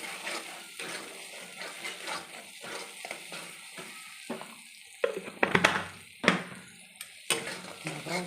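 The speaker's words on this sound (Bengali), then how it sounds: "এবার আমি জল দিলাম।" Water splashes into a pan of paneer curry spiced with kasuri methi, a loud hiss and sizzle flaring up in several sharp bursts over steady frying and occasional utensil clatter.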